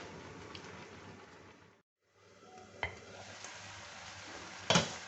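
Mushrooms frying in a pan, later joined by ginger, carrot and courgette, give a steady soft sizzle, with a brief gap partway through and a couple of sharp clinks of a utensil against the pan.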